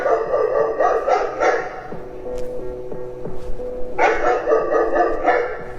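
A schnauzer barks close and loud in rapid bursts, pauses while a faint tonal sound plays, then starts up again with another run of sharp, quick barks.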